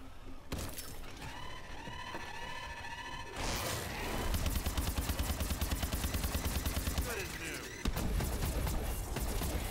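Rapid, dense gunfire bursts from a shotgun mode in the Advanced Warfare Exo Zombies video game, with crashing impacts and game effects layered over a busy background, and a player's voice faintly heard talking underneath.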